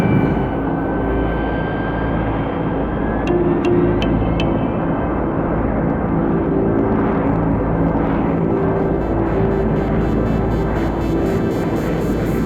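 Military jet aircraft taxiing along a runway at an Air Force base in Afghanistan, a steady loud engine roar and rumble with a faint high whine, continuous and fairly close throughout.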